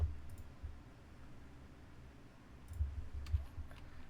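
Soft keystrokes tapped on a computer keyboard as a command is entered, a few faint clicks in short clusters over quiet room noise.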